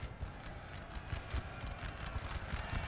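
Light cavalry gallop in the Napoleon: Total War game, a continuous rapid clip-clop of many hooves at moderate volume, with no voices.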